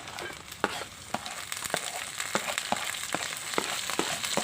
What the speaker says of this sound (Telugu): కోసుకొని కడిగి పెట్టుకున్న దొండకాయ ముక్కలు ఉన్నాయి కదండి, ఇప్పుడు వేసుకుంటున్నాము